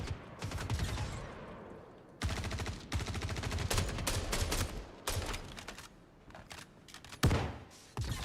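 Bursts of rapid automatic gunfire rattle in a Star Citizen firefight, loud and close, coming in several separate volleys with short pauses and a heavy single blast near the end.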